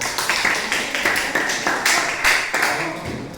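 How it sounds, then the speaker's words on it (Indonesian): A classroom audience claps for a classmate, a steady run of sharp, close handclaps repeating in quick rhythm for several seconds with no talk over it. "Berikan tepuk tangan buat teman kita."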